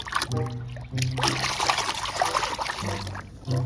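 Water trickles and splashes steadily while toy cars and trucks are washed, a close continuous pouring sound with brief pauses.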